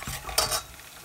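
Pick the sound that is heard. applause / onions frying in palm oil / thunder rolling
onions frying in palm oil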